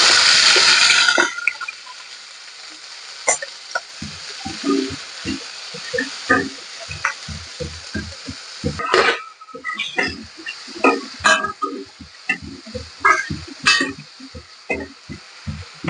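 Onion fries in hot oil with cumin, mustard seeds, curry leaves and chilies, beginning with a loud hissing burst, then settling into scattered pops and crackles under occasional stirring, close up.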